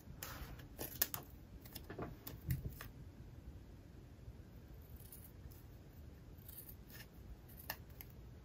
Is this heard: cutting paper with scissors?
yes